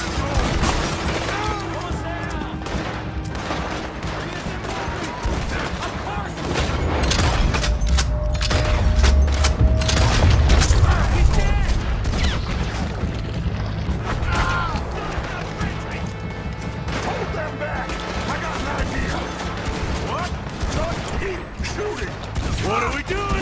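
Rapid gunfire in Red Dead Redemption 2 during a Saint Denis bank robbery, dense bursts of shots, booms and crashes layered over game music, with characters' voices speaking throughout.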